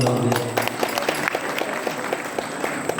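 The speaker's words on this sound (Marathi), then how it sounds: "त्याच्यासाठी टाळ्या" Steady applause from an audience at a temple devotional singing event, with rhythmic clapping continuing for the whole stretch.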